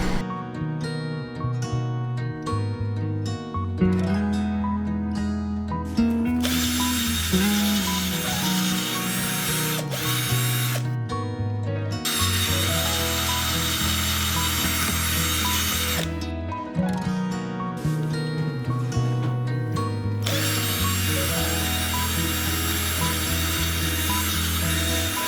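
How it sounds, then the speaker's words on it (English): A power tool, likely a drill, works loudly and steadily on the rivets of a Travel Buddy LED light, its whine shifting pitch in bursts with brief pauses, no talk. "they're going to pull this out of the car and pull these rivets out and put the thing back together with the new LED in it"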